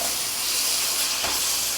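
Bacon and minced garlic being stirred in a hot pan, giving a loud, steady, close sizzle and hiss with a brief scrape of the spoon partway through.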